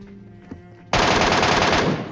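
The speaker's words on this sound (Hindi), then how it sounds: "अब जाएंगे हम MK से मारने सीधा उनको" MK rifle gunfire in the PUBG Mobile video game, a loud rapid burst of automatic shots that starts abruptly after a short quiet moment and continues steadily to the end.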